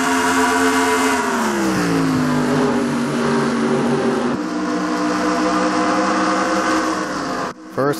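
Stock cars race on a virtual oval track in a NASCAR-style video game, a pack of engines droning together at a steady pitch that drops once early on, fairly loud and continuous until a brief cut near the end.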